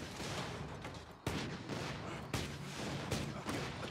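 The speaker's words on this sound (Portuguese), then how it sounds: "Minha torreta já tá exterminando um deles ali, um desses babacas ali, ó." Rapid automatic gunfire from a deployed turret in the Borderlands 2 video game, dense sustained bursts with sharp louder shots cutting in every second or so, no talk over it.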